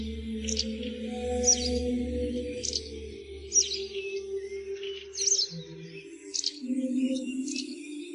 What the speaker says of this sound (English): listening to all the songs of the birds.